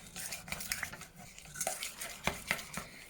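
Barbecue sauce and treacle being mixed in a bowl, with soft, uneven clinks and scrapes of a utensil against the bowl, quiet and close, with no voices.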